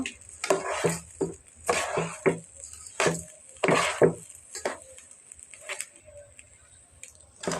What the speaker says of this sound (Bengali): এগুলা আমি এগুলাকে ভালো করে ভেজে নিব